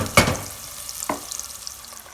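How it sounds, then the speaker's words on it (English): Fried onions stirred in ghee for lamb biryani: two distinct scrapes of a spoon against the pot over a soft, fading sizzle, close up and without speech. "Time for me to chuck in the fried onions. Okay, and then just stir a bit."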